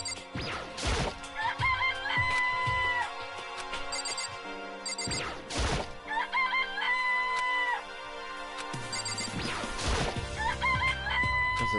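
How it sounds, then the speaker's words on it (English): Chicken sounds from the video game Danganronpa play loudly and repeatedly: rooster crows and clucks recur in a steady looping pattern over game background music, with no talking. "It's a chicken. It's really alive, right?"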